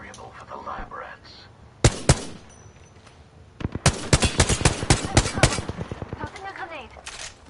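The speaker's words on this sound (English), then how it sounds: "Shooting at me." A sharp pair of shots, then a fast burst of rapid automatic fire in an Apex Legends firefight, loud and close, with a voice speaking quietly underneath.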